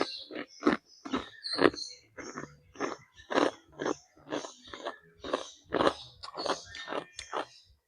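Crunchy homemade chicharon pork cracklings being chewed close up, a run of loud, rapid crackling bites and crunches repeating steadily with no talking.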